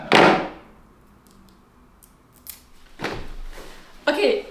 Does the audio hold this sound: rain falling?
no